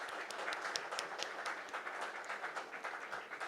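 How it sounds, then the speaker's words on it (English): Faint applause from a conference audience for a panel at an aviation event, a steady wash of many hands clapping heard at a distance, continuous with no voices over it. "I think a huge round of applause for our very, very esteemed panel."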